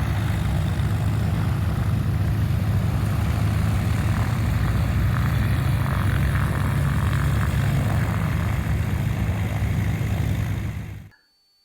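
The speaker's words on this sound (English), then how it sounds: "Just one mass of aircraft all trying to get out at the same time." Crowd of propeller airplanes taxiing and departing at the Oshkosh fly-in, a steady loud drone of many piston engines blending into one continuous roar that cuts off abruptly at the end.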